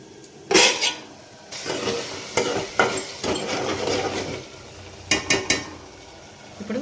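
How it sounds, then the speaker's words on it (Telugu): Egg curry being stirred in a pot just after tamarind pulp is poured in, with clattering spoon scrapes and knocks against the metal over a wet, bubbling sizzle, close by and with no one speaking. "ఇలా పోసిన తర్వాత కర్రీ అంతా ఒకసారి ఇలా కలుపుకోవాలి"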